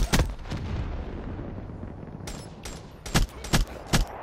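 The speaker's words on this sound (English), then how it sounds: "This guy's shooting at a dead body." Gunfire in the video game Call of Duty: Black Ops 3: a few sharp shots at the start, a quieter stretch, then a rapid run of loud, close reports spaced about half a second apart.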